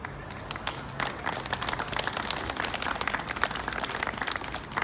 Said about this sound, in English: So I would like you to give yourselves a round of applause.